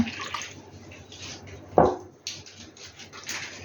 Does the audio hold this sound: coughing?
no